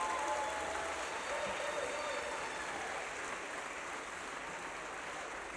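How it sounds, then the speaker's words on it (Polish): Sustained applause from a festival audience at a folk music concert in Zakopane, a dense, steady wash of clapping that holds at an even level throughout with no pauses. "Brawa dla nich"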